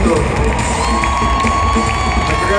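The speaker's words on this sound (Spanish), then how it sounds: "si le damos un fuerte aplauso a unos increíbles músicos" Concert crowd at a show cheering and applauding, a loud, dense roar of whoops, shouts and clapping that fills the whole stretch with no pause.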